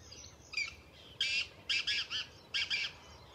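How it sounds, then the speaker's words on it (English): Harsh bird squawks in short bursts, three or four raspy screeching calls in quick succession over a quiet background, fairly close. "There are cackling birds back there."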